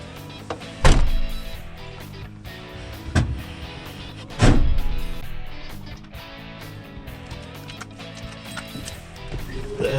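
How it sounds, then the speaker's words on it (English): A car's hood and doors slam shut in three loud, separate thumps spaced a few seconds apart, with quiet mechanical rattle between and no talk. "I'm going to close the hood and we're going to close the doors"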